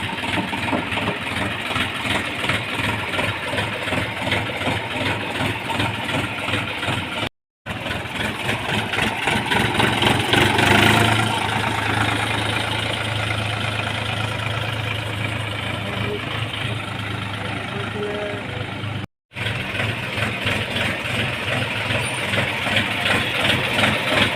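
A freshly washed tractor's engine idles with a steady, rhythmic low chug that persists throughout, close and fairly loud, interrupted by two brief dropouts. A swelling rumble rises in the middle.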